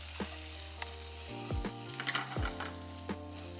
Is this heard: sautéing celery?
yes